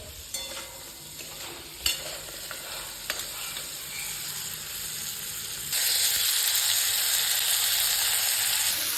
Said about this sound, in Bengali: প্রথমে কাঁকড়াটাকে নুন হলুদ মাখিয়ে তেলে ভাজা করে নিচ্ছি, সর্ষের তেলে।